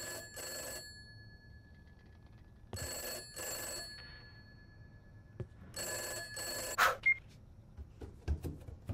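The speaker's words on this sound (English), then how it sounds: "Phone's ringing, let's go." An old-style telephone in the video game Summer of '58 rings in three double-burst bell rings separated by quiet gaps, followed by a few faint thuds and clicks.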